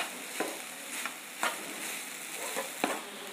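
Soybean bhurji stirred and frying in a pan, a steady soft sizzle with a few scraping clicks from the spatula at irregular intervals, close and moderately quiet, no voices.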